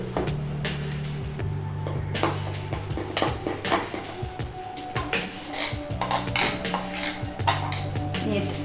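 A greased tiffin box is handled in a kitchen while dhokla batter is readied: metal clinks and scrapes recur throughout, close and fairly busy, over a steady low hum, with no talk.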